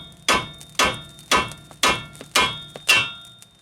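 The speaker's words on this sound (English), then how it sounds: "I've got a fork like this, and you can pound that out with that fork" Six sharp metallic hammer blows land at a steady, even pace on a fork tool, pounding a tie rod end out on a 2008–13 Chevrolet Malibu. Each strike is loud and close with a short ringing decay, and there's no talking.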